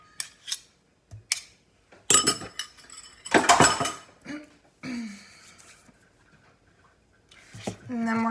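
A spoon scooping cheese into a bowl, with scattered scrapes and light clinks against the bowl in short bursts between quiet gaps, close by, and speech heard among them.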